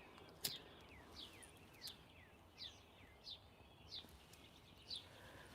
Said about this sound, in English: those birds sound so happy for this beautiful day